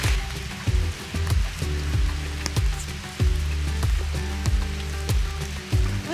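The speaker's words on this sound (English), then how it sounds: "That means we should just get wet and play in the rain." Heavy rain falls steadily in a storm at Leipers Fork, a dense patter of drops close by with repeated low thumps throughout.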